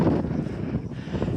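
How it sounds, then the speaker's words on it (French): Wind gusts buffet a microphone at a parked spot near the road on the way to the Île d'Oléron, making a steady, rough low rumble with no one speaking. "il y a du vent"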